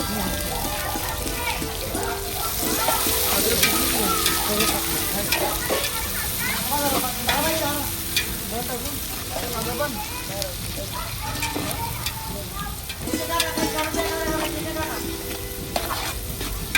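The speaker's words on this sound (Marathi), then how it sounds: "कांदा परतवायचं काम चालू आहे. जळायचं नाही म्हणून." Sliced onion sautéing in hot oil with bay leaf, a loud continuous sizzle with constant stirring clatter throughout, voices talking over the cooking outdoors.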